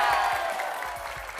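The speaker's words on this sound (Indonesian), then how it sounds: "Tepuk tangannya mana buat Asia?" Crowd clapping, a dense patter of many hands that gradually tapers off slightly.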